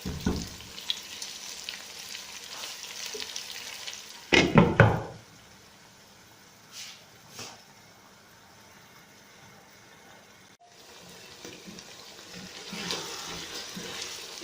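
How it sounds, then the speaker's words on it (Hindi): Chicken fries in a covered pot for biryani. A steady low sizzle runs throughout, broken by a loud clattering burst as the lid is handled, a few soft knocks, and then the sizzling continues. "इसको गलाएंगे, फ्राई करेंगे चिकन को।"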